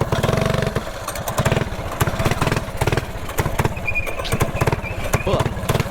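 A small mini bike engine runs steadily with a rapid, rough putter throughout, close and fairly loud, and people talk over the noise.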